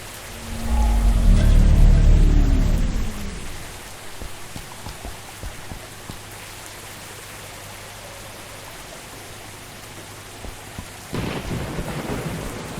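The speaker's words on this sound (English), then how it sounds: "All alone in the rain." Heavy thunder rolls loudly in a Cthulhu adventure game, then fades into steady rain pattering on surfaces, with a second burst of rain or thunder near the end and no talking.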